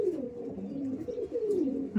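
Green Madras pigeons, an old Kolkata breed, coo in a steady low rolling run of calls, fairly close and with no talk over them.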